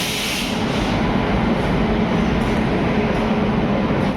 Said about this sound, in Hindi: विशाखापट्टनम एक्सप्रेस डिपार्चर ले रही है मकराना जंक्शन रेलवे स्टेशन से